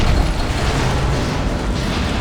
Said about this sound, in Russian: Они порох, что ли, взрывают?